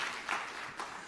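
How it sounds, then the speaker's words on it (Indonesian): A church congregation claps together, a brief, soft wash of applause heard from a distance in a reverberant hall. "Tepuk tangan yang meriah untuk kemuliaan nama Tuhan."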